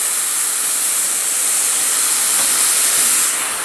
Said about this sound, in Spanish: Le añado un poquito de agua.